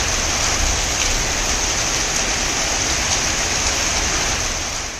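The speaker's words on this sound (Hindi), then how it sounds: "बारिश लगातार हो रही" Heavy rain falls steadily in Bengaluru, a loud dense broadband hiss of downpour that stays constant for the whole stretch with no voices, then fades slightly at the end.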